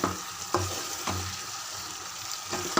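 Chicken pieces mixed with freshly ground masala in a pan, a continuous close stirring and gentle sizzle with a few sharper scrapes and knocks of the spoon against the pan.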